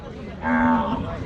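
A cow moos loudly at a crowded cattle market in Rajshahi, one long drawn-out call rising and holding steady for most of a second over the murmur of the busy market crowd.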